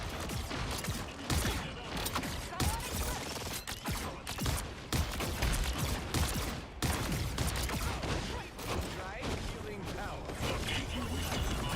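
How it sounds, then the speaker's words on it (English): Ultron's pulse cannon blasts in the hero shooter Marvel Rivals, rapid dense bursts of energy fire amid loud game effects, with speech over the barrage throughout. "Nobody can hang with the pulse cannon."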